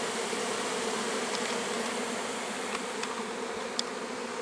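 A foreign honeybee swarm pushes into an already occupied hive in the late afternoon, a dense continuous buzzing drone with occasional louder passes of single bees close by.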